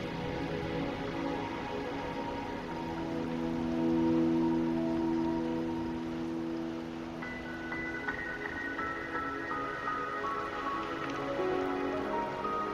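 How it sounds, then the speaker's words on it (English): Steady rain falls in the video game Wuthering Waves, a continuous soft hiss under sustained musical tones, with no talking. "Are you trapped here by the rain?"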